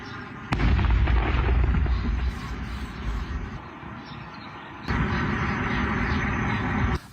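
A controlled detonation of an unexploded shell in a forest: a loud, deep blast erupts suddenly, followed by a long rumbling roar, then a second heavy boom that rolls on strongly before cutting off.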